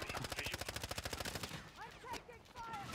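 Rapid automatic gunfire from a video game crackles in a dense burst for about a second and a half, then gives way to quieter game sounds with voices talking over them.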